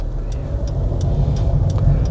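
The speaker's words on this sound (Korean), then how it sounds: "자, 기어넣고 엑셀 밟고" A car pulls away after being put into gear, its engine a steady mid-pitched hum that rises slightly, with faint clicks on top.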